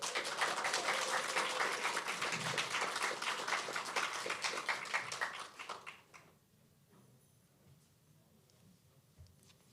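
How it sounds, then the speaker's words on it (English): An audience applauds at a student talent and identity showcase for the Bangladesh Student Association group, dense clapping for about six seconds before it fades into quiet room noise. "give a big round of applause to the beautiful girls of the Bangladesh Student Association"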